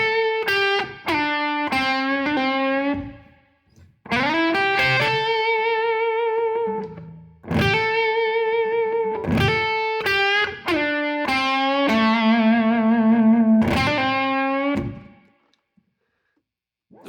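Blues lick on a distorted electric guitar, phrased as several bursts of bent and sustained notes with short pauses, close and alone with no talking.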